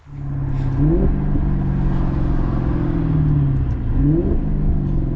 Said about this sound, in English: I love the downshifts of this car, and on sport mode it tends to keep the RPMs higher, so it tends to downshift a little bit more aggressive